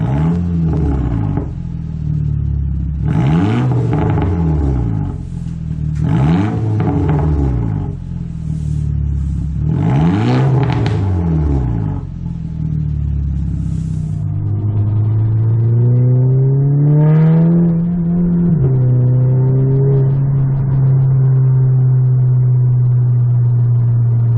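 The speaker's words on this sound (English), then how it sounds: "do a little rev so you can hear my exhaust" A Volkswagen MK6 Golf GTI engine with a front-mount intercooler and muffler delete revs hard several times in bursts, the exhaust roaring and popping, then settles into a steady, loud idle rumble with a rising turbo whine.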